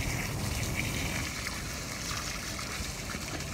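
Water runs from an opened tap to flush out a very dirty filter, releasing dark water; a steady, fairly soft rushing flow continues throughout with no voices.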